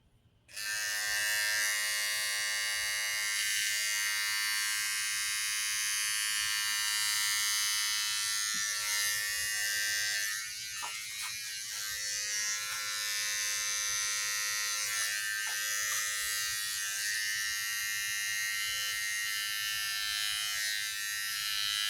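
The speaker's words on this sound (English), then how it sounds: "The trimmer does the work for you." Electric hair trimmer buzzing steadily and close during a self haircut, a bright continuous whine with slight shifts in pitch and texture as it moves through hair.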